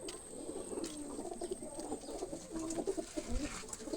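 Pigeons coo steadily at close range in a loft, low rounded calls repeating and overlapping over a continuous bed of background noise.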